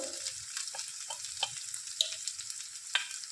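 Turmeric and chili powder sizzle in a frying pan, a soft steady hiss of hot oil with a few light clicks and taps of stirring, close and fairly quiet, no voices.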